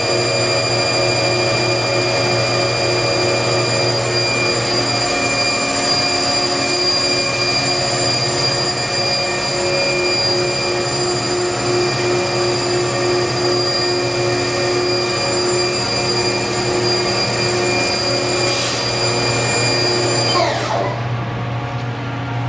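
A 2012 Haas TL-1 CNC lathe spindle running at 2,000 RPM gives a loud, steady tonal whine with layered harmonics, holding constant before winding down near the end.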